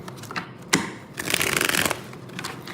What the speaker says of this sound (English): one more shuffle, we're ready.